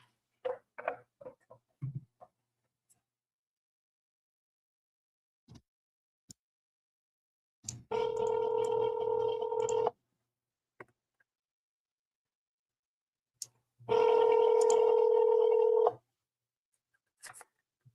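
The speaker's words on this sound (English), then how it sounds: "Connecting your call to John Leon" A telephone call connects through an automated line: scattered faint clicks, then two long, loud, steady two-tone ringback bursts a few seconds apart in otherwise near silence.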